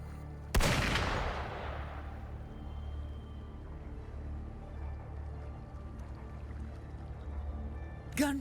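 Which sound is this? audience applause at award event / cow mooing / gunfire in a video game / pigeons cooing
gunfire in a video game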